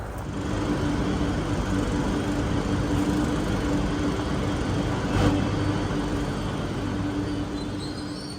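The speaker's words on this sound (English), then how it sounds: "It was then time to take a train from the city of Paris to Lille." A train runs from Paris to Lille, heard as a steady, loud rumble and roar with a low hum that holds for the whole stretch. A faint rattle can be heard within it, and there is no talking.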